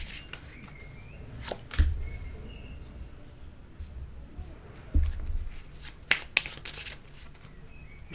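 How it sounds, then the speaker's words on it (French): Tarot cards being shuffled by hand in two or three quick riffling bursts, with quiet gaps and soft handling noises in between, recorded close. "je vais sortir quelques cartes et on voit ça ensemble. Je vais bien les mélanger."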